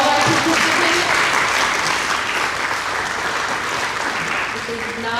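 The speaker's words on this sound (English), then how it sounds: "if we could give a round of applause to all of our participants" Steady, dense applause from an audience at a district-wide geography bee in Bayonne, honouring the participants, loud and sustained throughout before tapering slightly at the end.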